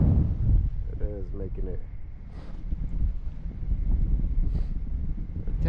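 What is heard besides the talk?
strong wind blowing across a frozen lake while ice fishing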